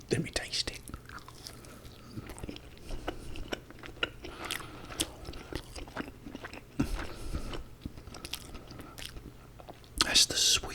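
Close, crisp bites and crunchy chewing of a McDonald's Chicken McNugget with sweet curry sauce, repeated wet mouth sounds and crunches with quiet whispered talk in between.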